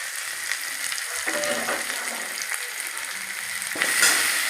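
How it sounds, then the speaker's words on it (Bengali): Ginger spice paste frying in hot oil, a steady broadband sizzle with intermittent stirring scrapes, close and fairly loud, briefly flaring louder near the end. "একটু মশলাটা ভেজে নিলাম কষিয়ে নিলাম তেলের সাথে"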